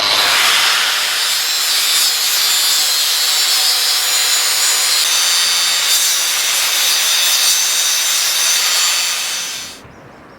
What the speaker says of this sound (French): je vais faire mes entailles à la meuleuse pour glisser ma cornière